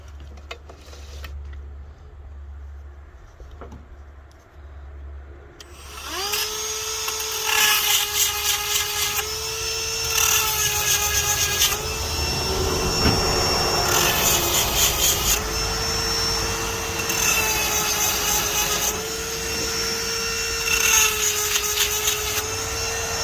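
Chainsaw fitted with a HiPa saw chain starts up and cuts wood, a steady close engine drone rising into repeated rasping bursts as the chain bites, with no talking.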